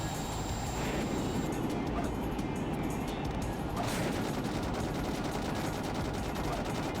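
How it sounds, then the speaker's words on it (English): Missiles and explosions roar through a boss fight in Sonic Adventure 2 Battle, a dense, continuous barrage of blasts with game music, loud and unbroken across the whole stretch. "These missiles can be a bit hard to avoid sometimes."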